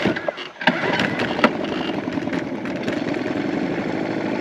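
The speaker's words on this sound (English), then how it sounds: "Let's crank the motor up." A small outboard motor on a fishing kayak on a Texas river cranks with a few sharp pulls, then catches and settles into a steady buzzing idle, close and loud.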